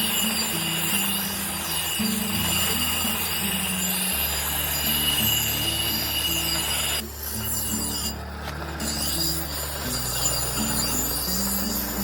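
A knife being sharpened, rhythmic scraping and rasping strokes in a continuous back-and-forth run, fairly loud and close, with no voices over it.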